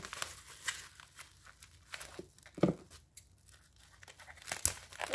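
Plastic wrap on a boxed video game being cut and torn open, with crinkling and sharp tearing bursts scattered over a few seconds, close up and fairly quiet.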